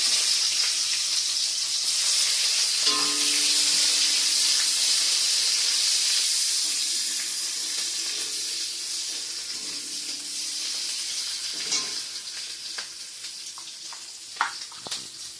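Dried chilli, bay leaf and onion frying in hot oil give a steady loud sizzle and hiss throughout, with a few clinks and taps of utensils near the end.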